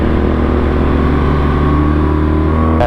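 A Honda Africa Twin motorcycle fitted with a DCT gearbox rides past, its engine a steady, loud drone with layered harmonics that rise slightly near the end, with no voices over it.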